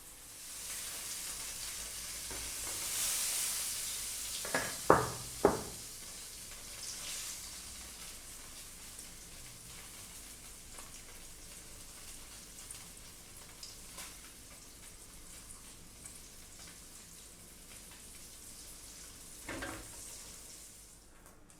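Beef liver fries in a pan with a steady, faint sizzle and crackle throughout. A few sharper clinks or pops stand out near the start, and no one speaks.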